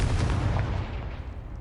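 A Confringo blasting spell goes off in a Harry Potter–style video game, a loud close explosion with a heavy low boom that rumbles and slowly decays over about two seconds, with no talking.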